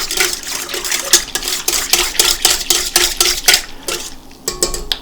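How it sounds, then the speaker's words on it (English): A whisk clatters rapidly against the sides of a bowl as yeast is beaten into water for Riga rye bread, a steady run of close metallic taps and scrapes with no talking. "Now I'm going to add my yeast, and I'm going to whisk that in"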